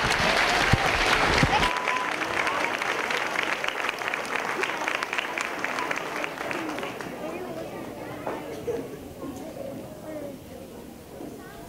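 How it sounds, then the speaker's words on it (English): An audience at a school spring concert gives a round of applause that starts strong and gradually thins and fades, with crowd chatter rising underneath as the clapping tapers off. "One more round of applause."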